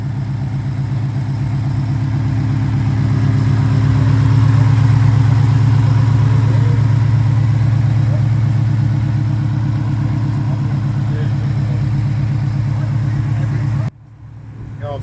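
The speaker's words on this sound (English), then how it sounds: "GT 500 motor, 93 Cobra." Engine of a 1993 Ford Mustang Cobra fitted with a GT500 motor, idling with a loud, steady low rumble and a rough throbbing pulse, cutting out abruptly near the end.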